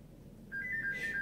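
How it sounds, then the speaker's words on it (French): A phone ringtone begins partway through, a bright repeating electronic melody sounding clearly against quiet room tone, with no talking over it. "Désolé pour le téléphone."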